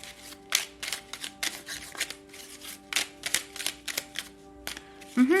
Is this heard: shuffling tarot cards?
yes